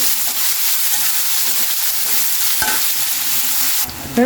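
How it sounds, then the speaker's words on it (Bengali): Chopped onion and dried chili frying in oil, stirred in a pan for a leafy greens dish, a steady close sizzle with soft scraping stirs throughout, ending in a brief louder clatter. "পেঁয়াজটা বারবার ধরে নাড়তে হবে যাতে পেঁয়াজ লঙ্কাটা খুব লাল হয়ে যায়"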